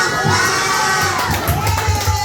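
A crowd at a birthday celebration cheers and shouts loudly, with children's voices and whoops filling the room and a few claps mixed into the steady roar.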